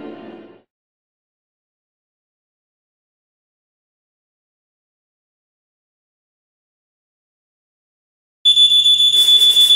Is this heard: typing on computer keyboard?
no